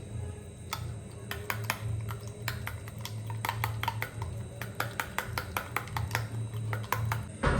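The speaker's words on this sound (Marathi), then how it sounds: "आता ह्याला पण मस्तपैकी फेटून घेऊया." Eggs with chilli and spices being whisked in a bowl for a bread omelette, a rapid run of light clinking taps that quickens and grows steadier, close and without talk.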